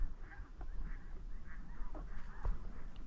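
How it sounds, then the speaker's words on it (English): Several snow geese call in the distance, repeated nasal honks overlapping in an uneven chorus, faint against a low outdoor rumble. "But a lot of snow geese around here, I've noticed"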